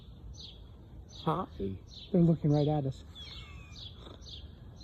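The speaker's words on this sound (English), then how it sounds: "We're enjoying this nature moment with birds chirping." Small birds chirp in repeated short, high tweets outdoors at breakfast time near a bunny, steady and moderately close, while a person briefly speaks over them.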